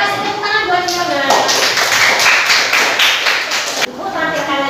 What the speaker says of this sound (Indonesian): Tepuk tangan buat Fiona.